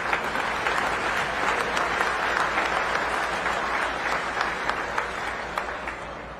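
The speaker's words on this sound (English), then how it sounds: "Let's give all them regional qualifiers a round of applause." A crowd at a tractor pull selection ceremony claps continuously for regional qualifiers, a loud, even wash of hands that fades slightly near the close.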